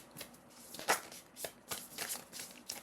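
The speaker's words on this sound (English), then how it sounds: "let's shuffle your tarot" Tarot cards are shuffled by hand in a few quick riffling bursts, crisp and close, with brief pauses between them and no talking.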